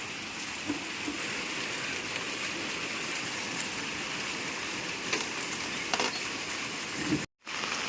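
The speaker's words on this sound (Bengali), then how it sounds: "বৃষ্টি পড়ছে দেখো কেমন আজকে সারাদিন এরকমই চলবে হয়তো" Steady rain falls outdoors, a dense even patter on the ground and nearby surfaces from start to finish, with a few brief knocks and a short dropout near the end.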